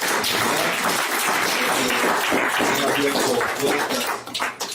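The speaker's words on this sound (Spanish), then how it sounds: "Le damos un aplauso al Señor por esta oportunidad." A church congregation claps during a Spanish-language Christian service, a broad, busy patter of many hands that holds steady before thinning and turning uneven near the end, with faint tonal sounds and a voice underneath.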